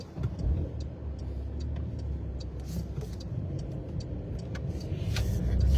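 A Porsche car drives along a narrow side street, its engine hum steady and fairly close, swelling louder toward the end as it accelerates.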